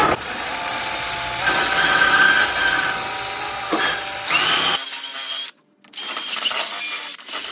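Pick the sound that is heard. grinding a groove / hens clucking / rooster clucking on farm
grinding a groove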